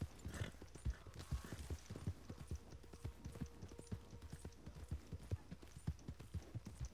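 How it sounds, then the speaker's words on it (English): A horse in Red Dead Redemption 2 walks with steady, even clip-clop hoofbeats at a moderate pace, quiet and close with no talking over it. "Alright, horse, get over here so I can go back to my camp."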